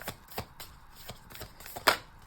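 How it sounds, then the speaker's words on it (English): A tarot card deck being shuffled in short riffling bursts, several soft papery flutters spaced through the moment with one sharper snap near the end, close and quiet. "this deck is harder to shuffle than I thought"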